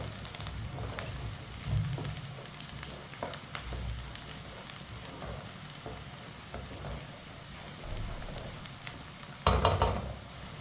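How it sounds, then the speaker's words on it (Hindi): Onions sizzle and crackle in a pan over medium heat while a spoon stirs them, a steady close frying hiss with scattered pops and a louder scrape near the end. "प्याज को हल्का सा ब्राउन कर लेंगे मीडियम आंच पर, ऐसे ही चम्मच चलाते हुए"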